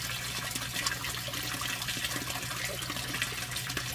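Water streams steadily from the grow bed and a bypass valve into a small stand-alone aquaponics system running on a 40 watt pump, a close, continuous splashing trickle with no voices.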